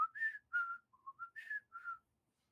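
A person whistles a signal imitating a bird call, a quick series of about six short, bright chirping notes, close and clear against silence.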